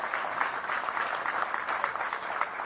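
A crowd at an outdoor mayoral campaign rally in Gyumri claps steadily, a dense even patter of many hands at moderate distance, with no voices over it.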